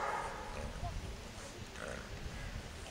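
A dog gives a few faint, short barks and yips in the distance, partly hidden under people talking nearby.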